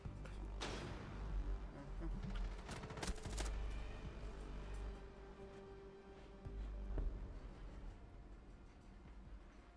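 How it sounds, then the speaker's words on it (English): Gunfire from several guns in a competitive video game match, with rapid bursts and single shots crackling in clusters over a low ambient rumble, fairly faint overall. "3 sets of guns going off there"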